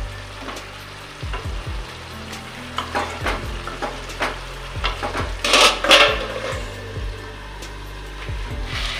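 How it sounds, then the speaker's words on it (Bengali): Chicken for Dak Bungalow chicken curry sizzles in a pan while a spatula scrapes and knocks against the metal in irregular bursts, close and clear under a constant frying hiss, with no talking. "এবার আমি এটাকে 10 মিনিট মতো কষিয়ে নেব, আর একটু ঢাকা দিয়ে দিয়ে করব"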